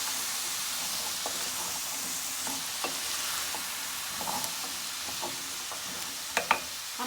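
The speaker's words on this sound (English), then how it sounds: "So after frying up the seasoning a little to open up all the flavors and to get rid of some of the rawness of the ingredients, we're gonna go in with our chickpeas" Chickpeas go into seasoning already frying in a pot and are stirred, giving a steady close sizzle with soft scraping and clinking stir sounds throughout, a couple of louder knocks near the end.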